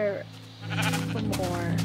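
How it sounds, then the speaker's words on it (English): A sheep bleats in the Minecraft video game, a short wavering call near the start, followed by players talking over each other in the background. "that sheep is trying to block"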